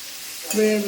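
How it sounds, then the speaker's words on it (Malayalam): Onions sauté in a pan: a faint hiss gives way to a louder burst of sizzling as food hits the hot oil, with some tonal sound ringing above it. "ഇതൊന്ന് വഴന്ന് മൂപ്പിച്ച് വേവിച്ചെടുക്കാം. മൂത്ത് വരട്ടെ."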